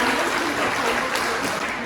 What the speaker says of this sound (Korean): 네, 따뜻한 박수 부탁드립니다.